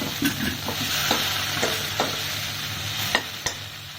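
Cooked ash gourd is stirred into a sizzling curry in a pan, with soft frying hiss and several scraping, clacking spoon strokes close by.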